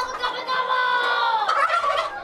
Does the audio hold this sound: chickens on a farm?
yes